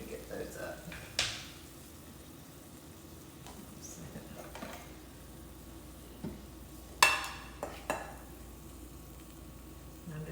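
A spoon stirs and scrapes sautéed onions in butter in a pan, with soft sizzling throughout and several sharp clinks and scrapes spaced through the clip, fairly close and quiet.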